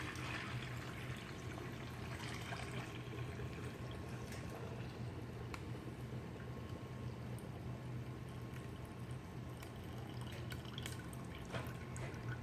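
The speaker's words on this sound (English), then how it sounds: "I'm going to try to pour it without spilling" Tea pours steadily from a teapot in a continuous soft trickle, fairly quiet, with faint splashes and no voices.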